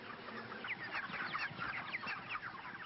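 Chickens on a poultry farm cluck and chatter continuously, several birds overlapping at a moderate distance, a busy flock murmur with no speech.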